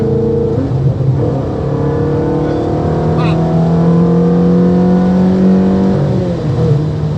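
Loud, close Ferrari sports car engine note rising and holding in pitch as the car accelerates, with a steady droning roar throughout.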